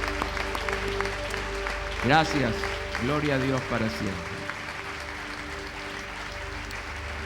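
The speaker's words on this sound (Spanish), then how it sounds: "Ahora sí, aplaudimos al Señor esta mañana." Church congregation applauding during a Sunday morning service, a steady wash of clapping running throughout beneath someone speaking briefly in the middle.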